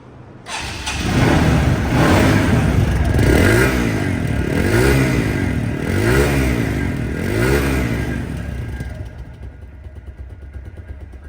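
A TVS MAX 125cc motorcycle engine in showroom condition idles and revs steadily up close, rising in a few rhythmic surges before cutting off.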